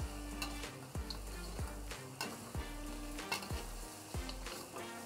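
Lamb dry curry stir frying in a pan, with a steady close sizzle and regular scraping stirs that come roughly every second, and no talking.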